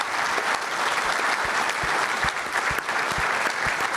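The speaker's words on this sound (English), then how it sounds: "Just a final applause for Nick, Steve and Sean" Audience applause at the close of a business lunch fund manager panel, a steady, dense round of clapping from a roomful of people, fairly loud and sustained throughout with no talking over it.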